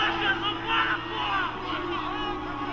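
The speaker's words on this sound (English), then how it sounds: "Now, what's the crowd booing at here?" Crowd at a 2008 jiu-jitsu World Championship match booing, with a sustained, droning chorus of many voices that swells and eases without a break.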